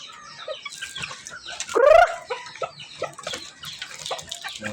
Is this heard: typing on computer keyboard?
no